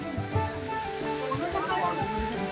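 Water rushes continuously at Barki waterfall near Anuskura Ghat, a close, full roar with a few dull knocks and a hint of voices under the torrent.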